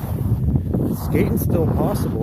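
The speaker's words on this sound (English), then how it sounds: "sorry about the wind." Wind buffets the microphone with low rumbling gusts while a person speaks over it, outdoors on snow-covered river ice in January.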